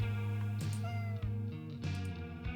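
A cat meows in a visual novel video game, several drawn-out meows over a sustained musical backing, with no talking.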